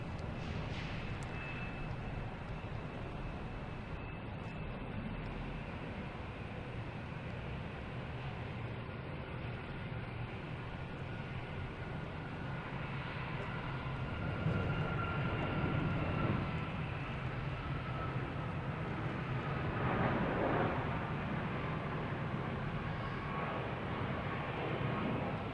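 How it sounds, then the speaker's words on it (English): A United Airlines Boeing 737 MAX 9 bound for Denver at Boston Logan Airport gives a steady, broad jet roar at moderate distance, swelling slightly midway and holding on, with no voices over it. "United Airlines 737 MAX 9 heading to Denver"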